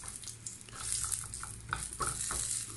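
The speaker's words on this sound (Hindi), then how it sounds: "फ्राई हो गई मिर्ची, चूल्हा बंद कर दूँ, तड़का लगा दिया है" Chili peppers sizzling in hot oil for a tempering in an eggplant-with-yogurt dish, a steady frying crackle with occasional stirring scrapes, close and fairly loud, no voices.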